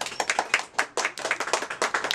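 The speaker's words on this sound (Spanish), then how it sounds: "Muchas gracias, Natalia, fuerte el aplauso" A small audience claps at a live comedy or talk event, a brisk, fairly close burst of individual hand claps with distinct separate slaps rather than a dense roar.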